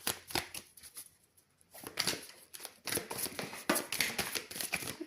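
Tarot cards shuffled by hand, with quick bursts of riffling and sliding card flicks that come in uneven clusters and short pauses, close up and fairly soft, with no talking.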